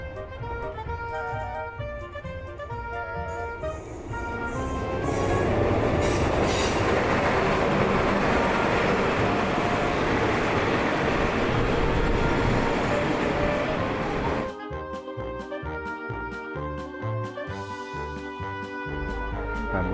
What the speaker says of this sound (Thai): ขณะนี้รถไฟมาแล้วนะครับ